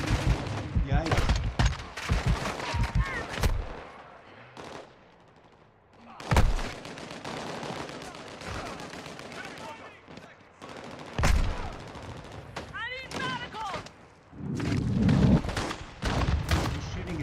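Call of Duty: Modern Warfare II online match gunfire: loud sharp shots and automatic bursts cracking at irregular intervals, some close and punchy, others farther off, separated by quieter stretches and background game sounds.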